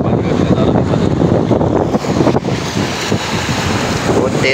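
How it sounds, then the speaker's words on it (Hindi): Strong wind buffets the microphone while rough sea waves churn around a fishing boat off Karachi after a cyclone, a loud, constant roaring wash with brief gusty dips. "और हवा भी तेज़ है"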